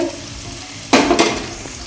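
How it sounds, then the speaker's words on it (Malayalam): Sliced onions frying in a pan for pork curry get stirred, a quiet sizzle suddenly swelling into two quick scraping bursts of the spoon, then settling back to a soft hiss, close by with no talk. "ഇനി നമുക്കിതൊന്ന് ഇളക്കി സവോള അല്പം സോഫ്റ്റായി വരുന്നവരൊന്നിങ്ങനെ ഇളക്കാം"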